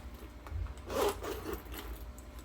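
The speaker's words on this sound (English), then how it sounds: "And there's a front top zipper." A short pull of a bag's front top zipper near the middle of the clip, a brief rasping slide against a faint, quiet background.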